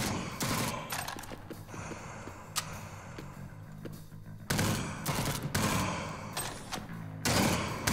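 Shotgun fire in Jupiter Hell, a Doom-style sci-fi roguelike shooter, with several loud, booming blasts spaced a second or two apart over a dense, noisy game soundscape.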